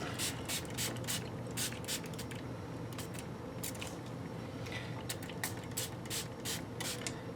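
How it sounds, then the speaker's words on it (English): Repeated short hissing sprays from a trigger bottle, several quick bursts in irregular rhythm, close by over a steady low background hum. "first get you a good spray bottle like this"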